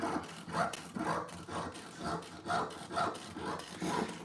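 A blade cuts out a piece of carving wax by hand, producing steady, rhythmic rasping strokes, about two per second, close and fairly soft with no talking.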